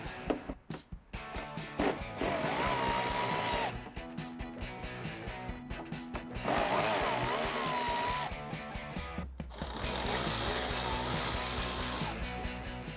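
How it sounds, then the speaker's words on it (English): A ratchet with a 10mm socket backing bolts out of an OEM mud flap on a Toyota 4Runner, heard as bursts of rapid clicking pawl ratcheting separated by short pauses, close and loud, with no talk. "we're going to go ahead and take our ratchet with our 10mm socket and get these removed"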